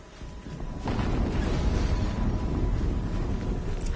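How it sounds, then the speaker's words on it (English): A deep explosion bursts in Horizon Zero Dawn, starting as a low rumble that swells into a sustained, heavy roar and then hangs on as a dull background boom, with no talking. "Another explosion."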